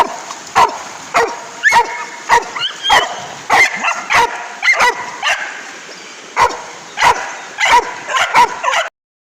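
Dogs on a countryside footpath walk play in a stream, barking and yipping in rapid, loud bursts close by, with whimpers between them and splashing underneath.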